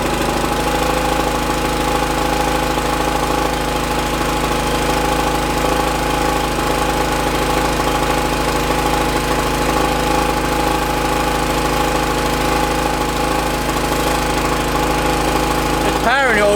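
An old generator engine runs steadily under an electrical load of about 1000 to 2000 watts, a constant close mechanical drone with a low hum and a slightly knocking tone throughout.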